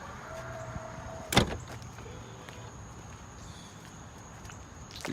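Ferrari FF power tailgate closing by itself, a sharp thud of the hatch shutting followed by a faint motor whir, quiet and close with no talking.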